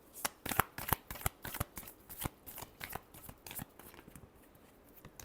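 A deck of tarot cards is riffled and shuffled in quick, close, crisp bursts, a rapid irregular run of papery flicks that eases off toward the end, with no talking.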